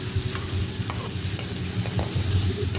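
Ginger garlic paste fries in hot oil for Kabuli pulao, sizzling steadily and close, with light scraping stirs and small pops throughout.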